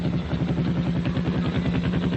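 Several WW2 Harley Davidson WLA military motorcycles ride round a barrack square, their engines making a steady, rhythmic, throbbing putter that stays close and even throughout.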